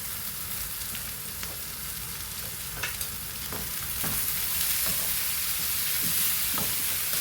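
Raw mango pieces and green chilies fry and sizzle steadily in a hot pan, a continuous close hiss with occasional stirring scrapes and no talking.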